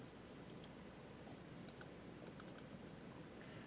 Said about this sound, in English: Double clicking it